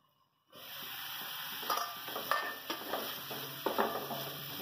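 A yogurt masala mixture for dahi bhindi cooking and being stirred in a pan: a soft, steady sizzle begins after a brief silence, punctuated by several clinks and scrapes of a utensil against the pan, close and moderately quiet.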